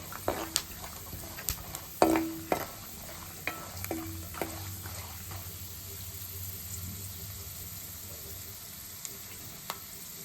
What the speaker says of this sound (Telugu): శనగపప్పు, మినపప్పు, ఆవాలు, జీలకర్ర వేసుకొని కలుపుకోవాలి